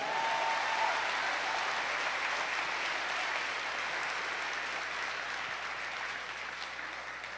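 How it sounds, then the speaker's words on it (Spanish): A church congregation applauds together, a dense, sustained wash of clapping that fills the room and slowly tapers off toward the end, with no speech over it. "Denle un fuerte aplauso al que vive, al poderoso de Israel."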